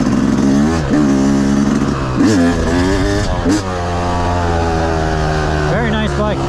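A Yamaha YZ 250 two-stroke dirt bike set up for woods riding runs loud and close, its engine note rising and falling with repeated revs and gear changes through the whole stretch.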